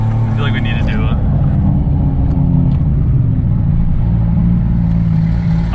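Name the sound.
700hp Lexus IS300 car engine revving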